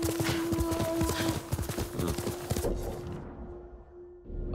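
Quick rhythmic hoofbeats of a galloping horse in Ghost of Tsushima clatter over a steady hum, then fade out as the sound grows quieter.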